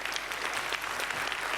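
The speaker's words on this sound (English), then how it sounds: "Big applause." Applause from a crowd, steady and fairly faint, a brief continuous patter of clapping with no talk over it.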